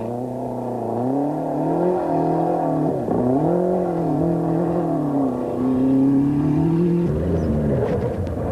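A Fiat Uno Turbo rally car in Class B holds a steady, loud engine drone that rises and falls with the revs, then shifts gear near the end, with no talking.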